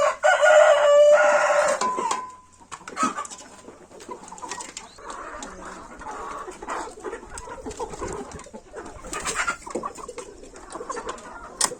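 Chickens and a rooster in a Kenyan countryside homestead, with a loud crowing burst at the start followed by scattered clucking and bird calls at moderate distance.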